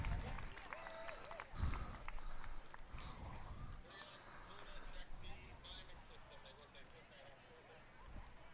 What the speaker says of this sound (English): Show them a little hand clapping.